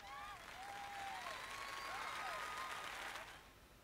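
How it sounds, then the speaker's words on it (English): Applause in the video game Fire Emblem Three Houses plays as a faint, steady patter of clapping under melodic game chimes, swelling slightly and fading near the end. "please give a big round of applause for our talented participants."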